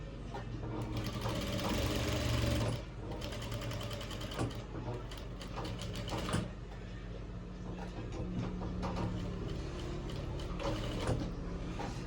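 A sewing machine stitches a shirt pocket in close, rapid continuous runs, with short pauses and fabric handling between bursts; a person talks faintly at times.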